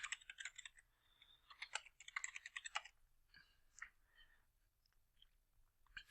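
Someone types a name on a computer keyboard, with quick bursts of close, crisp key clicks that trail off into a few scattered taps and near silence.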